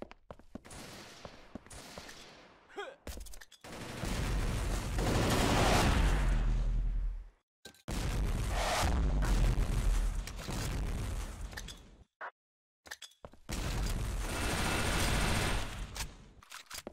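Gunfire from the online shooter WarRock comes in loud bursts of rapid automatic fire separated by short silences, several long volleys spread across the stretch.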